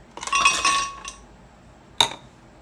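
Ice cubes clink against a glass or container for a berry smoothie, a cluster of bright rattling knocks close by, then one sharp clink after a short pause.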